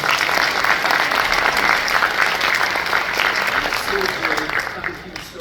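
An audience at an arts studio event in Florida applauds continuously, a dense, even clapping that holds steady then tapers slightly near the end, with a speaker's voice briefly over it.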